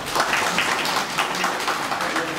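Assembly audience applauding together to approve reports at a cooperative's annual general meeting in a hall, a steady dense wash of many hands clapping throughout, moderately loud and continuous.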